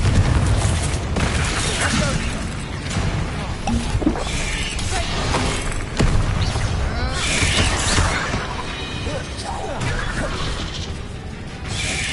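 The Confringo explosion spell in Hogwarts Legacy bursts out as a series of loud crashing blasts and whooshes, dense and continuous, layered over combat noise.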